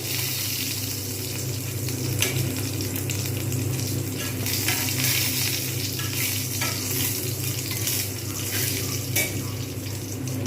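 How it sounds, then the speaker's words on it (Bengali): Chana dal frying in a pan over very low heat gives a steady, even sizzle throughout, moderately loud with occasional faint crackles and no voices. "যতক্ষণ পর্যন্ত না ঠিকঠাকভাবে ভাজা হচ্ছে ততক্ষণ পর্যন্ত কিন্তু আমি অপেক্ষা করব আঁচটা একদম কমিয়ে রেখে দেবো"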